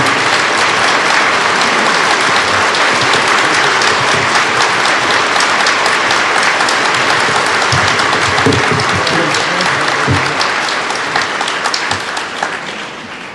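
A large audience at a 1980 University of Prince Edward Island convocation applauds loudly and steadily, a dense wash of clapping that carries on for several seconds before starting to fade.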